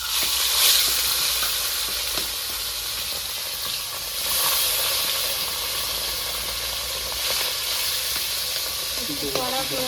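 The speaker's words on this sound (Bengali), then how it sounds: "আর মাছটা ভেজে নেবো। মাছ দিয়ে দেবো।" Bata fish fries in hot mustard oil in a wok with a loud, continuous hissing sizzle close by. The sizzle swells and eases slightly over about ten seconds, broken by occasional crackles.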